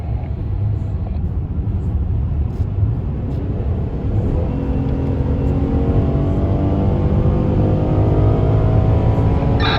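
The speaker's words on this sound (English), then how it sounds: "one more 85-mile-an-hour run down the backstretch" A speed-limited truck runs fast down the backstretch of Indianapolis Motor Speedway at around 85 mph, a steady loud engine and road rumble heard from inside, with a rising tone toward the end and no talking.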